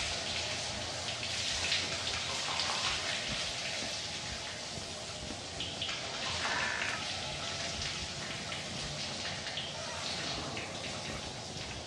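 Steady shower water runs and splashes continuously at moderate level in the horror video game Outlast, a dense hiss with no pauses.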